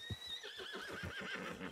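A horse whinnies in Red Dead Redemption 2, a long wavering neigh that rises over a steady clip-clop of hooves, heard fairly quietly with no talking.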